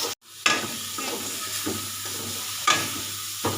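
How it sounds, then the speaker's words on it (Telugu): Grated beetroot sizzles steadily in a pan as a utensil stirs it, with a few distinct scraping strokes breaking through the close, constant frying hiss. "బీట్రూట్ ఫ్రై అయితే చేస్తున్నాను."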